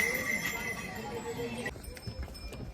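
A horse on the Kedarnath pilgrimage trail, with hooves clip-clopping and a brief whinny amid steady outdoor noise, while people talk nearby.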